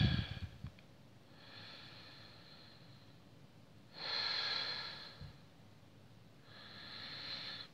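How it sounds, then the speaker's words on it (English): Slow, deep breaths pass close to the microphone in three long airy swells, each lasting about a second or more and separated by quiet pauses, with a brief rustle at the start. "Focus on the breathing."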